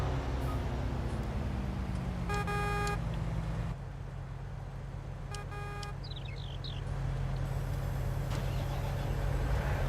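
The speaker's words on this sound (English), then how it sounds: "Engine sound is identical as well." A Fendt Ideal 10T combine harvester engine in Farming Simulator 19 runs at a steady, loud drone, with two short bursts of electronic beeping over the hum.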